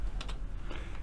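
Typing on a computer keyboard, a couple of soft, close key taps over a low background hum.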